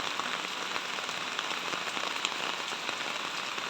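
Heavy typhoon rain pounds a house roof in a dense, even hiss with scattered sharper drop hits, close and continuous throughout.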